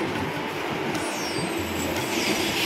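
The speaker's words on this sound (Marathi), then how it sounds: "तब्बल 2 रेल्वे गेल्यानंतर आमची रेल्वे प्लॅटफॉर्मवर दाखल झाली" A Mumbai local train pulls into the platform with a steady rumbling roar, wheel squeal and rising metallic screech near and loud, no voices.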